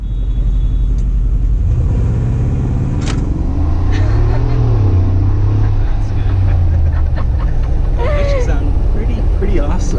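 A Mercedes G550 4x4 Squared with a 416-horsepower engine runs with a loud, steady low rumble throughout, and someone talks over it.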